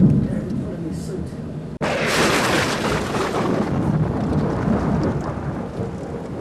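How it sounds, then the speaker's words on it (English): Heavy rain pours at an outdoor theme park during a sudden storm, with a sharp loud thunderclap cracking in partway through and then rolling on under the steady downpour, with wind buffeting the microphone. "it's like thundering down and raining and really started really outside"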